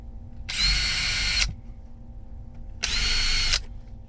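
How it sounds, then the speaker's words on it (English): A handheld power drill whirs through two short bursts of about one second each, close and loud over a low background hum, with a brief quiet gap between them. "I did not properly drill these."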